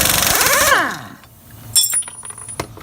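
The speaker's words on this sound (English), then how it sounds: "if you're lucky and have an air tool, then you can just fucking shove this thing in here and zap" An air impact tool zaps the front hub nut off a Nissan 240SX: a loud, close burst of rattling hammering that winds down, followed by scattered metallic clinks and taps.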